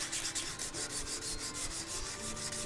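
A guitar body is sanded by hand with 80 grit sandpaper during a bridge reglue, giving quick, rhythmic back-and-forth scratchy strokes that stay quiet and close.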